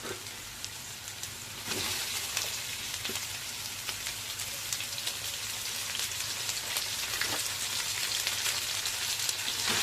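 Pork sautéing for pancit in a hot pan: loud, dense, continuous sizzling that swells after a moment and holds steady, with occasional stirring scrapes; no talking.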